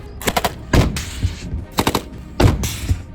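A PKT machine gun mounted on a remote-controlled, self-propelled ground combat drone fires several loud, close bursts of rapid shots separated by short pauses, with no voices.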